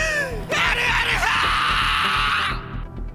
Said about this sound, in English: Whenever things go south and Haruto gets stressed, he screams for Edoel.